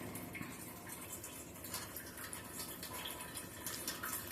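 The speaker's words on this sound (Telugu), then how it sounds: "నేను ఇట్లా ఇంతవరకు 2 గ్లాసులు వాటర్ పోసుకున్నాను నేను" Water pouring into a pot of bottle gourd and egg stew, a steady close splashing and gurgling fill that continues without pause, fairly quiet.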